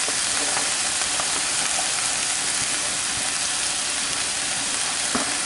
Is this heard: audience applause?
no